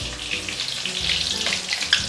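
Pong pong prawn fritters fry in very hot oil, four at a time, with a loud, close, continuous sizzle and crackle and small bubbling bursts.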